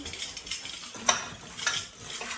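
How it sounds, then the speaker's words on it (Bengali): Brinjal slices frying in oil in a pan, a soft sizzle broken by a couple of sharp metallic utensil clinks and scrapes, close and fairly quiet, with no voices. "এখন আমি বেগুনটা আগে ভেজে নেব তারপরে মাছটা ভেজে নেব"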